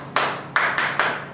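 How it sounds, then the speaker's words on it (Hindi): Bihari-style rhythmic hand clapping: four sharp, close claps in an uneven pattern, two spaced apart and then two quicker ones, with no other sound around them. "ये थी बिहारी ताली"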